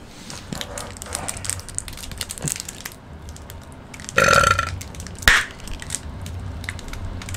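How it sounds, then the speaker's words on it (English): A loud, deep burp rings out near the microphone, along with a second shorter belch, set against crinkling and crunching from hard candy and Pop Rocks being eaten. "This is giving me a massive burp."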